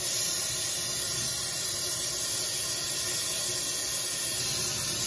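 A warmed carbon stirring rod plunged into a crucible of molten metal and flux gives a steady, loud hiss and sizzle, continuous and unbroken with no talking.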